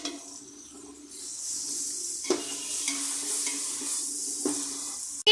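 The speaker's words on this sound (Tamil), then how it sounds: "ஆட் பண்ணி நல்லா கிண்டி விட்டுக்கோங்க." Onions stirred with ginger garlic paste in a pan for veg biryani: a steady close sizzle with a few sharp scraping strokes of the spoon, no talking.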